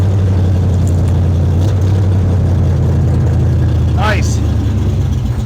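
Rumbling V8 idle from a 1972 Chevelle brought back to life after a field rescue, a steady deep throb close by, with a brief voice and a short squeal over it.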